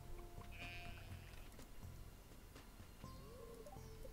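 A sheep bleats in the Stardew Valley farming game, short quiet calls over soft background game music and ambient effects, with no talking.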